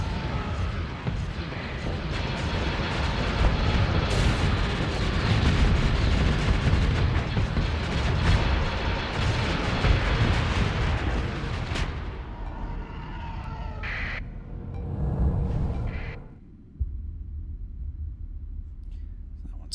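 Weapons fire and explosions from a Starsector space battle in a Star Wars–modded game, a dense, continuous barrage of booms and blasts that rumbles loudly for most of the stretch before thinning out into scattered hits near the end.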